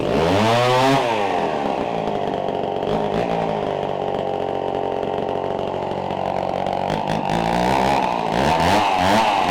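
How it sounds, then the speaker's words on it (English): A Homelite 1130G, a 100cc gear-drive chainsaw, runs steadily at high revs while milling through a log, a loud continuous snarl with slight load changes and no talk. "saw we're running here is a Homelite 1130G. It's a 100cc saw with a gear drive"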